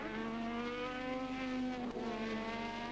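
A Formula One car accelerates hard out of the final corners onto the straight during 1986 Hungarian Grand Prix practice, its steady high-pitched engine howl rising with a brief dip at a gear change. Loud and sustained, no voices.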